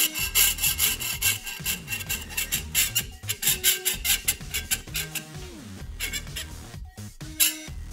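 A hand saw cuts a workpiece clamped in a vise in a workshop, with steady, close, rasping back-and-forth strokes in a quick rhythm that pause briefly now and then.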